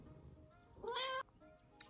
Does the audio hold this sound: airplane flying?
no